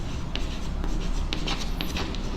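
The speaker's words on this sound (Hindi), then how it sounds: "फिर से मैं यहाँ पे लिखता हूँ टी माने ट्रेन, बी माने बस" Pen strokes on paper as equations are written out by hand, a series of soft scratchy marks with short gaps between them, close and steady, with no one talking.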